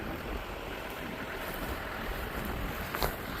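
A soft, steady wind blows over an open farm field, a low continuous rushing hiss with faint gusts, distant and even throughout, no voices.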